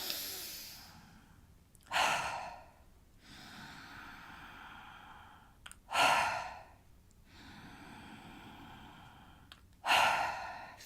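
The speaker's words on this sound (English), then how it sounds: "so breathing in." Deep breaths for a Warrior Breath exercise, filling the belly and chest: three loud, sharp rushing inhales a few seconds apart, each followed by a softer, sustained airy exhale, close to the mic with no talking.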